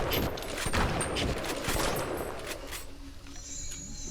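A rapid burst of gunfire rattles in the Bioshock video game, loud and dense for about two and a half seconds, then thins out to a quieter tail.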